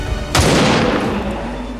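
A single sharp gunshot bursts out in XCOM 2: War of the Chosen, loud and close, its echoing tail fading over the next second and a half.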